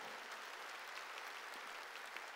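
A church congregation claps during a sermon, a faint, even patter of many hands heard from a distance, steady throughout the short stretch.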